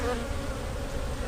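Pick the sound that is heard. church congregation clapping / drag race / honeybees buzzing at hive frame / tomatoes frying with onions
honeybees buzzing at hive frame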